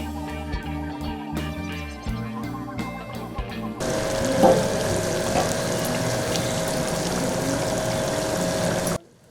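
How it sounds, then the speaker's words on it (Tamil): Water pours into a pan of goat intestine curry, a steady splashing rush for several seconds after some earlier kitchen clatter and music, ending abruptly; no talk. "ஏற்கனவே குடலை வேக வைத்த 3 கப் தண்ணீரையும் சேர்த்து 5 நிமிடம் மூடி வேக விட வேண்டும்"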